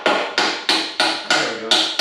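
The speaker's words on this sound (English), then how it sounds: "Try hitting with the 16-ounce dead load just to tunk it out." A 16-ounce dead blow hammer strikes part of a 1979 Harley-Davidson Low Rider Shovelhead, landing six loud, close, evenly spaced thuds roughly three times a second, each decaying quickly.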